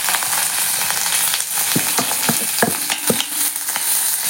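Finely chopped onion frying in oil in an iron pan with cinnamon and curry leaves, a steady bright sizzle with a spoon knocking and scraping at irregular intervals, close and loud.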